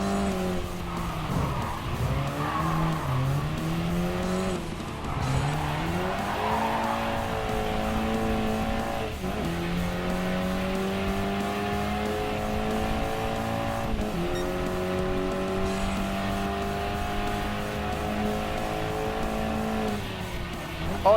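A BMW M4 race car in Gran Turismo Sport drives steadily, its engine note rising and dropping through gear changes over about twenty seconds, with brief tire squeal, loud and continuous with no talk.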